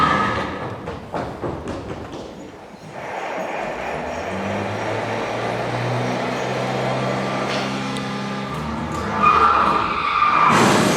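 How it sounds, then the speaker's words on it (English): A car skids with a long, loud tyre screech that rises and sustains over several seconds, preceded by scattered impact-like clatter, ending in a brighter burst of noise; no crash impact stands out clearly. "has been injured in a freak car accident that has shocked the nation"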